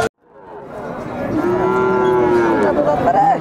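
An Australian breed bull calf gives one long, loud, close moo that rises and holds for about three seconds.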